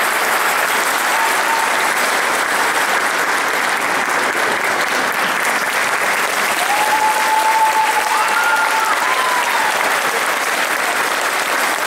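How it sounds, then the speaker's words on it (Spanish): Sustained, loud applause from a theatre audience during an evening community event, steady throughout with a few faint whistles or cheers rising over the clapping. "Fuerte el aplauso entonces para Cara Lipucci, que nos ha acompañado en esta noche de colectividades aquí en el Teatro Sushi"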